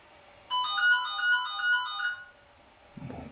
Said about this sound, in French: Mon téléphone m'appelle.